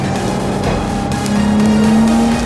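A Nissan 350Z sports car engine drones steadily on a racing circuit as it crosses the finish line, a loud sustained tone with a pitch that rises slightly over a couple of seconds.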